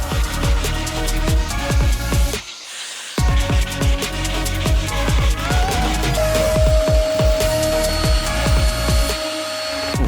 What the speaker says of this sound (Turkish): Şimdi bunu güzelce bir zımparalayacağım.